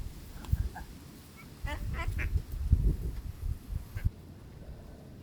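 Country ducks quacking in a few short bursts of nasal calls, moderately near and fairly quiet over rustling background noise, with a brief quieter stretch between calls.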